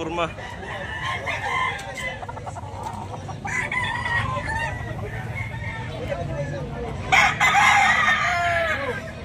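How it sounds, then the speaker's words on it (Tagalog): A rooster crows loudly up close, with clucking fowl and other farmyard noise around it and someone talking in the background. "Napakanagandang manok."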